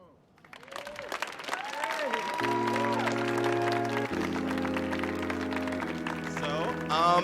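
An audience at a youth poetry festival stage applauds, building from scattered claps into sustained, full clapping. Steady musical tones enter partway through, and voices talk over the applause.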